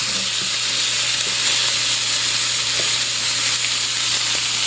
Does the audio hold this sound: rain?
no